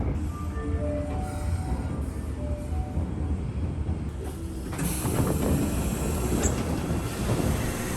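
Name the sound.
Kintetsu electric train running on rails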